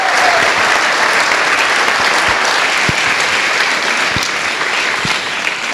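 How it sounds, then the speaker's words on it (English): An audience applauds loudly and continuously, a dense wash of clapping with a few sharper claps standing out. "It's going to be a lot of clapping."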